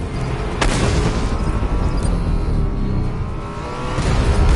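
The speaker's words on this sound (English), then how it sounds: "Firing rocket!" A rocket fires with a sharp burst followed by a loud, rumbling explosion in the video game Batman Arkham Knight, heavy low roar sustained over vehicle noise and swelling again at the end.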